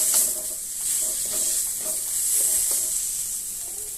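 Close, steady sizzle of spice paste frying in a pan, with repeated scraping stirs at an irregular rhythm over a constant hissing bed, no voices.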